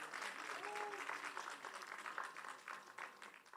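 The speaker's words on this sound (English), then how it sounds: "Please, let's give them another round of applause." A festival awards night audience applauding, a quiet, distant-sounding patter of many hands with brief faint voices mixed in.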